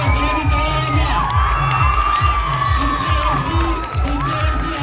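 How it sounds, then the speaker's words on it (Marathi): A large crowd of students claps and cheers at a results celebration and felicitation event for toppers' parents, a dense, continuous roar with rhythmic clapping and shouts throughout. "सगळ्यांनी टाळ्या वाजवा."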